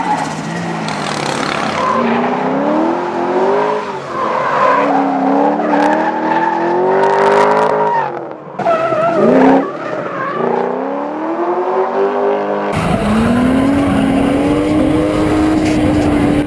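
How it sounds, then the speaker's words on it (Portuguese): A Nissan Skyline drifts with its engine wailing and tires squealing in long, rising and falling screeches, loud and close, with a brief gap before the skid resumes. "Como o carro é um mito, seria um crime não dar umas derrapadas insanas."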